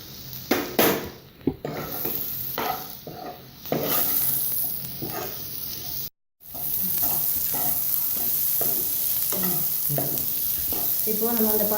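Macaroni pasta sizzles loudly in a hot pan with garam masala powder while a spoon stirs and scrapes, steady frying hiss throughout with a brief cut near the middle.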